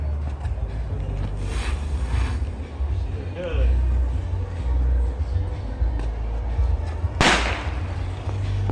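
A firework launches outdoors with a sharp whip-like crack and a hiss near the end, over steady background rumble. People talk and exclaim throughout.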